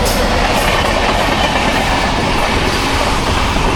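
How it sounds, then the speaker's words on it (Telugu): A local passenger train rolls past close by at a station, a loud continuous rumble of wheels on rails with rattling carriages and faint clickety-clack, steady throughout with no talk. "ఇంకో ట్రైన్"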